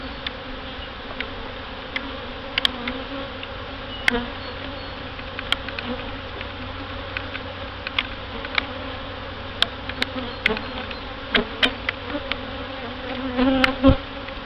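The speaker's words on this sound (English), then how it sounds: "Trying not to crush too many bees." Honey bees buzz in a steady, close drone as a mid-July hive inspection goes on, with brood boxes being moved and occasional clicks and knocks of equipment over the hum.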